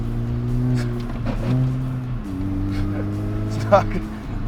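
An old, battered DAF HGV truck drives along with a steady, close, rumbling engine drone. Its pitch drops partway through as the worn gearbox shifts, then settles into a lower hum.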